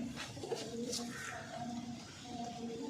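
Pigeons kept by a long-time pigeon fancier, soft repeated low cooing calls in a gentle rhythm, fairly close and quiet, with faint voices in the background.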